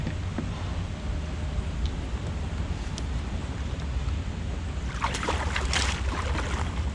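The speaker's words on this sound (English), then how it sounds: "My trolling motor is still technically going." Boat trolling motor left running while fishing for catfish, a steady low hum under broadband wind and water noise, with a burst of splashing near the end.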